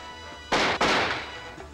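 Two sharp, loud gunshots fire in quick succession, each a broadband crack with a short decaying tail.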